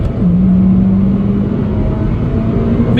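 Honda Civic Type R EP3 engine pulling hard toward VTEC, a loud, sustained engine roar with a rising tone, heard close inside the car without speech.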